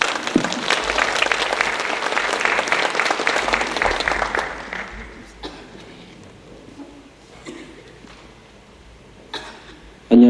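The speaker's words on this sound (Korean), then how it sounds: "우리 박수로 맞이해 주시면 감사하겠습니다." Church congregation applauding a guest speaker, a dense burst of clapping filling the room for about five seconds before thinning to scattered claps and faint murmur, with a voice starting at the very end.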